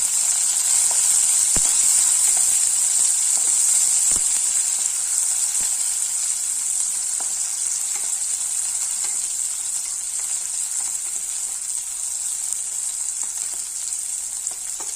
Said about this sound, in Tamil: ரெண்டு பச்சை மிளகாய் எல்லாம் வதங்கட்டும்.